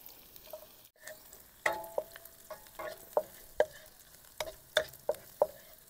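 Garlic and turmeric sautéing in hot oil in a pan, a soft background sizzle broken by repeated sharp spatula taps and scrapes against the pan, close and fairly regular.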